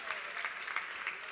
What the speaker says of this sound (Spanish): ¿Le quiere dar un aplauso al Señor?